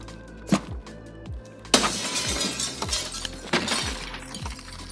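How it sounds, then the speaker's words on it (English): Glass shatters loudly in Escape from Tarkov at the Concordia building, a sharp crash followed by scattered tinkling shards and several dull thuds, with a first smaller impact just before. "I'm just gonna break the glass and hop in here"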